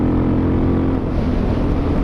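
A Suzuki DRZ 400SM motorcycle with a Yoshimura exhaust runs with a loud, steady, deep engine drone, close up and buffeted by wind, with no break over the short stretch.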